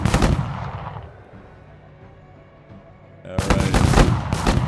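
Video game firefight with gunfire bursts and exploding grenades, loud dense shots at the start and again near the end, with a quieter lull between and a brief spoken voice.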